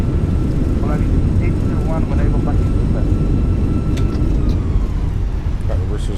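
An Airbus A320 airliner in a flight simulator roars loudly and steadily with engine reverse thrust during rollout after landing, a dense continuous rumble with voices talking over it.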